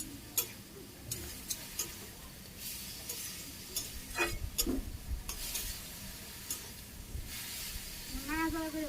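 Ash gourd stir-frying in a pan in a Bangladeshi village kitchen with green chillies added, giving soft uneven stirring scrapes and light sizzling close by, with brief clinks and background noises throughout.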